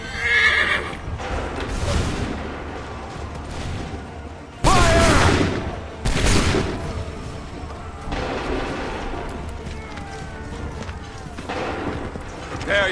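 Soldiers fire musket volleys in Assassin's Creed 3 Remastered, loud booming blasts breaking over a battlefield din of horses neighing and hooves, with shouted voices mixed in.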